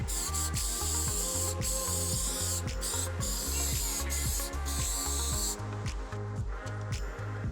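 A finishing coat of shellac being sprayed onto a wooden coin display frame, heard as a continuous hissing spray with faint mechanical clicks, playing beneath steady background music.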